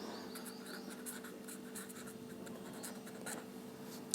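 A pen or marker scratches quietly across a board while the word Cartesian is written during a discrete mathematics lesson on relations and functions. The strokes are soft, close and continuous, with no speech.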